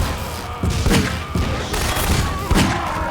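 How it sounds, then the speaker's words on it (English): Repeated gunshots crack out at intervals amid a noisy firefight in Half-Life 2 Episode Two, several sharp loud reports spaced over a constant roar of action. "Who is shooting?"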